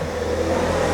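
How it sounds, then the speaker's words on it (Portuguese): A motorcycle engine hums steadily nearby as it passes, a continuous mid-pitched drone with no voices over it. "esperar a moto passar."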